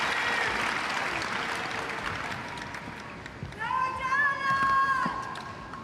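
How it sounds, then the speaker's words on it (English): A crowd at a Paris 2024 Paralympic boccia gold medal match applauds and cheers in a dense, steady wash of clapping that swells toward the end, with voices and commentary mixed in. "That crowd's definitely lifted after this game."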